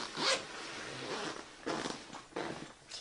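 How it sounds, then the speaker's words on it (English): A zipper runs around the outside of a Condor single rifle case, with several quick zipping strokes in short bursts, close and fairly loud, with no voices. "Otherwise, it zips around the outside"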